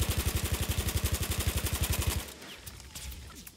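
Parabellum machine gun in Battlefield 1 fires a fast, steady burst of heavy, evenly spaced shots for about two seconds, then stops, leaving faint scattered battlefield noise.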